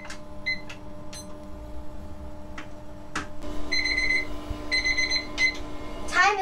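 A kitchen timer beeps in short repeated bursts of high electronic tones while eggs boil, fairly quiet, with a few clicks and knocks around them.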